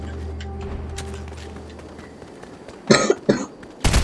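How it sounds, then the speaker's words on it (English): Three sharp coughs from one hoarse person, close and loud, in quick succession near the end over a low Fortnite game background hum. "Sorry for coughing"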